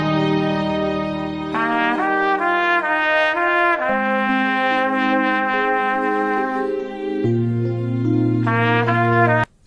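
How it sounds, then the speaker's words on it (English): A trumpet plays a bright, sustained melodic line of held and stepping notes, continuous and fairly loud, with a brief dip near the end. "Here is the sound of a trumpet."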